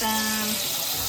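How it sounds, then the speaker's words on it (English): Canned chickpeas being rinsed under a running kitchen tap, a brief, steady rush of close water splashing into the sink. "Rinse them."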